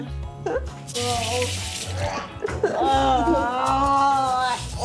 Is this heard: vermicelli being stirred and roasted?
no